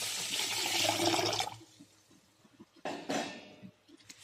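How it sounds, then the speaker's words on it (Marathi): Rice being rinsed in water for an uttapam batter, a burst of swishing, sloshing water followed by quieter trickles and a few small clinks of the vessel. "आता तांदळामध्ये पाणी टाकून तांदूळ स्वच्छ पाण्याने धुवून घेऊया"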